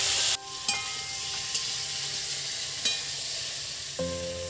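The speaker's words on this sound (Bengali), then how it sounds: "ভালো করে ভেজে নেব।" Fish heads fry in hot oil in a pan, a steady close sizzle with occasional stirring clicks and louder spatters, continuous and without any talking.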